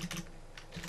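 Quick, light keystrokes on a computer keyboard while coding a Minecraft Forge mod, a brief close burst of clicks.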